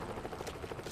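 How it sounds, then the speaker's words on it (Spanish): A helicopter in the video game Modern Combat 5: Blackout gives off a steady, pulsing rotor drone with rhythmic beating, heard fairly close and continuous through the whole second. "Algo me dice que vamos a tener que pelear con el helicóptero"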